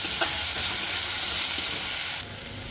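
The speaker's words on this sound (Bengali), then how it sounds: "নুন হলুদ দিয়ে গ্যাস কমিয়ে দিয়ে একটু নাড়িয়ে দিয়ে দিলাম।" Fish curry in a pan with salt and turmeric being stirred over a lowered gas flame, a steady broad sizzle with faint scraping, dropping quieter near the end; no talking.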